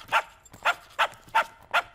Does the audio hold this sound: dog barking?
yes